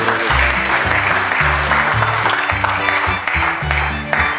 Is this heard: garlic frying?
no